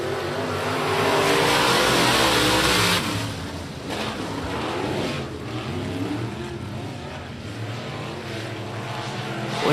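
USRA winged modified race cars roar away at the start of a feature at Big O Speedway, a loud, sustained engine blare with overlapping revs that swells early, then holds steady as the pack circles the track.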